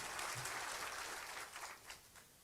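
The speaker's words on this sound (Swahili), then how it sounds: "Makofi kwa hiyo, Your Excellency, makofi kwenu" A crowd at a State House event gives a faint, distant round of clapping that fades out over a couple of seconds.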